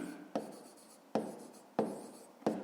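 A pen writes on paper in four short scratchy strokes, each starting with a sharp tap and trailing off, close and fairly quiet with no talk.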